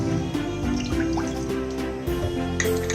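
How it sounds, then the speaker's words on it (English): Half a cup of water poured into a cooking vessel in a home kitchen, a continuous close liquid trickle and splash lasting a few seconds, with no talking. "So here in a vessel I am taking about actually half a cup of water"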